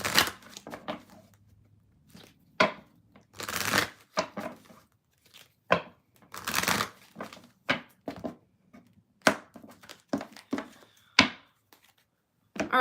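Close, crisp riffling of tarot cards comes in short repeated bursts with brief gaps, fairly loud and with no talk.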